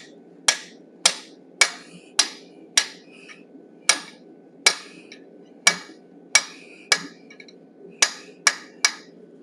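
Hammer blows strike hot metal on an anvil while forging a wolf head, about sixteen sharp ringing impacts in a loose irregular rhythm, close and distinct, with a faint hum beneath and no speech.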